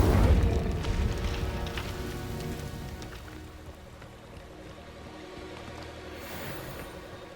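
A burst of fiery whoosh and rumble from the Incendio fire spell in Hogwarts Legacy, loud at the start and fading into a low crackling roar over several seconds.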